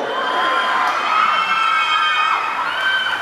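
A crowd screams and cheers in high-pitched excitement at a concert, a sustained shrill roar of many voices that keeps going without a break.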